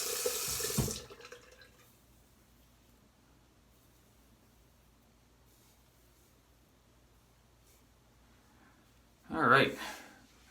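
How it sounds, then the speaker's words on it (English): Tap water running into a sink while rinsing after a head and face shave, a short splashing burst at the start and another near the end, with quiet room tone between. "I'm going to rinse up here."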